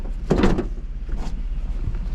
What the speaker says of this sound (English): That door's not opening.